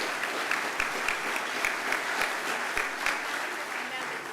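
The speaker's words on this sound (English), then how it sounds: "If we can give them a round of applause and they can please stand." An audience at a town hall meeting applauds council members with a dense, steady wash of clapping that holds evenly throughout.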